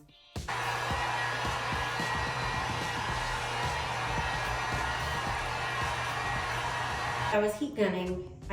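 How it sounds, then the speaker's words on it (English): A heat gun blows a steady, loud whooshing roar as it smooths wrinkly resin, running continuously at close range before cutting out near the end. "So this is where we come in with a heat gun and smooth everything out."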